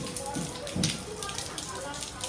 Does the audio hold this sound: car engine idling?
no